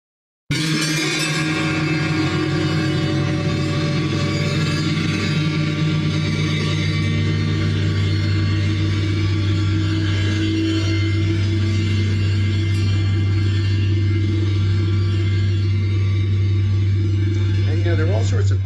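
A prepared piano plugin using a 25-string stiff string model rings out in a dense, sustained tone whose timbre keeps shifting through a long tail, with no talking.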